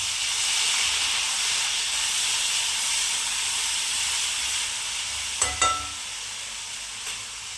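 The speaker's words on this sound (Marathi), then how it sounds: "जिरं टाकून घेतलं आहे. जिरं तडतड झालं की हे टाकणार आहे हिरवी मिरची, अद्रक, कोथिंबीर." Cumin seeds sizzle in hot oil in a kadhai, a steady loud hiss of frying with a couple of brief metallic clatters near the end.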